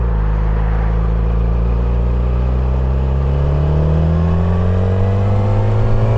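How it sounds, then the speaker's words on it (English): A car engine in a driving video game drones loud and steady, the revs climbing slowly and smoothly throughout with no voices over it. "If the engine barely ticks over, it barely uses fuel."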